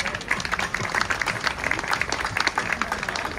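Crowd clapping and cheering at the Munich Pride event, CSD 2024, a short burst of uneven applause with scattered louder claps throughout.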